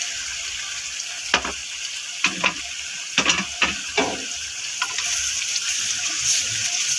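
Mutton karahi with yogurt and black pepper frying in a pan gives a soft sizzle under several sharp scraping stirs, close and moderately quiet.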